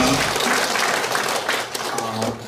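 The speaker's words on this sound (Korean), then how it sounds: "이렇게 역사하신 하나님께 감사의 박수를 올려드리겠습니다" Congregation applauding in a church during a Sunday worship service, a steady full wash of clapping lasting the whole moment, with some voices mixed in underneath.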